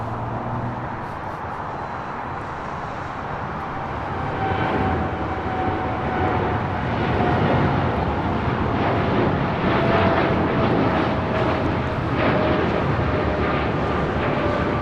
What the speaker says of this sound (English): We have Air Canada 788 now rolling on 25 right, headed out to Toronto. It's a 787-8 Dreamliner.